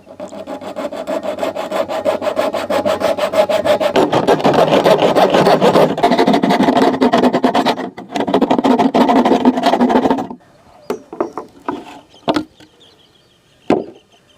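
Marked rope is cut for a water-can fish trap, giving a steady, close, rhythmic sawing and rasping that runs for about ten seconds, then a few scattered clicks and knocks.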